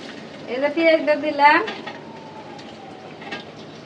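Onions for beef trotter nehari go into a hot pan and start sizzling, with a scraping stir and clinks of a utensil against the pan; close and fairly loud, the frying settling into a steady hiss.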